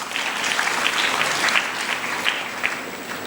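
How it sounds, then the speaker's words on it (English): A loud, full round of applause from an audience at a tax law knowledge session honors the paper presenters, with dense clapping sustained evenly from start to finish. "A huge round of applause to all our paper presenters."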